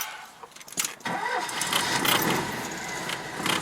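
A Citroen 2CV engine, freshly serviced with a repaired exhaust, cranks briefly and catches, then settles into a steady, close, buzzing idle that runs to the end.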